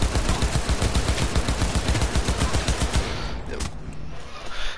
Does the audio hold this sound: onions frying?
no